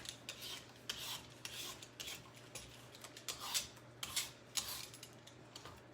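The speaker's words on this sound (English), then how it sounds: "peeling off the skin for things like zucchini or cucumber or carrots or even potatoes" Butternut squash being peeled with a hand peeler, its tough skin scraped away in a steady series of short raspy strokes close up, with a low steady hum beneath and no talking.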